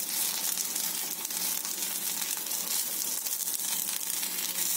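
Sabudana cheese balls frying in oil in an uncovered pan as they are turned, giving a continuous close, bright crackling sizzle without a break.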